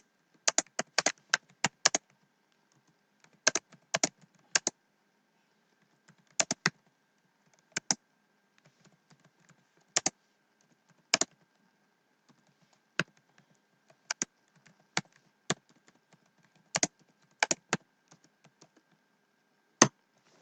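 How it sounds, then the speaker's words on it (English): Someone types a sentence on a computer keyboard in a quiet room, with crisp key clicks coming in short bursts and scattered single taps separated by pauses. "so just type a sentence."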